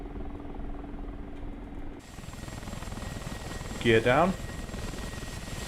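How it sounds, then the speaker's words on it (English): Mi-24P Hind attack helicopter in the DCS flight simulator, its rotor and turbine engines droning steadily throughout, growing louder and brighter partway through, with someone speaking briefly over the noise. "Okay, going into the hover state."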